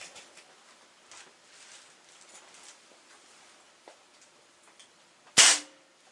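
A single sharp crack from a Crosman 2240 air pistol fired over a chronograph, loud and close, after a few seconds of quiet room tone; the report decays quickly.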